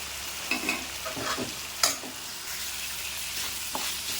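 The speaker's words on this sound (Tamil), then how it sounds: "சின்ன வெங்காயம் நசுக்கி வச்சுருக்கேன் இல்லையா அதை போடுறேன்" Crushed shallots frying in a pan for chicken soup, a soft sizzle with a few stirring scrapes and clinks, one sharper tap near the middle, fairly quiet with no talking.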